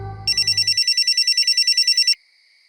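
A telephone rings in a rapid electronic trill of evenly pulsed bursts lasting about two seconds, loud and close, following a brief low rumble at the start.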